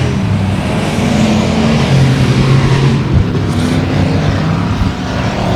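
Race cars roar around a short speedway oval in the final laps of a race, a loud continuous engine drone with shifting pitch as the field runs through the turns.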